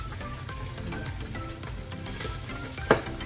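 Ground meat with garlic and onion sizzles and fries steadily in a pan, a continuous close hiss with one brief clink of a utensil near the end.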